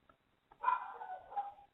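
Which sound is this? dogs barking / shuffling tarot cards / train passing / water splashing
dogs barking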